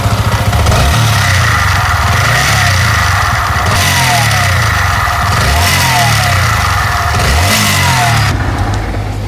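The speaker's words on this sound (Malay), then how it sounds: "Ini adalah ciri-ciri bunyi melibatkan tentang kita punya one way bearing" Yamaha MT-15 motorcycle engine with a faulty one-way bearing, running loudly up close with a steady low drone, rising and falling revs, and recurring whirring sweeps over the idle.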